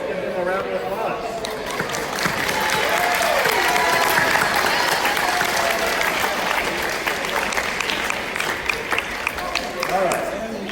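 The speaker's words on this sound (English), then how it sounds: "let's give them a round of applause" Sustained audience applause at a high school underclass awards ceremony after the Biology 1 awards, an even bed of many clapping hands with scattered voices and whoops mixed in.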